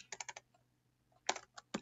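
Bursts of computer keyboard keystrokes as a command is typed into a Windows Server system, a quick cluster of close taps followed by a pause and a few more separate clicks, alone without talk.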